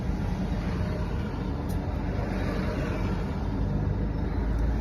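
A line of buses drives past with a continuous low rumble of engines and road noise, steady and fairly loud, with no talk.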